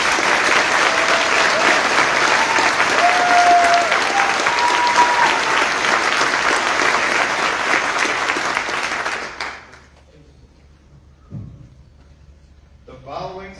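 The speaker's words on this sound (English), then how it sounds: "please give a round of applause to our awardees." A large crowd at a US Army training graduation ceremony at Fort Huachuca claps loudly and steadily for several seconds before the applause stops abruptly, leaving near silence with a faint voice afterward.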